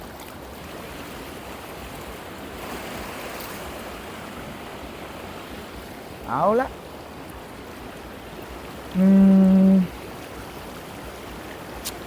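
A steady wash of flowing waterfall water into a stream fills the background, with a brief spoken phrase and a short tonal beep near the end.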